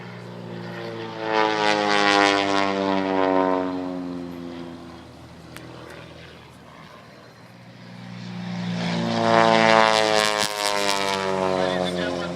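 A Pitts Special aerobatic propeller biplane passes overhead at an air show, its engine drone swelling loud, fading mid-pass, then roaring back close as it comes around again, with talk faintly under it.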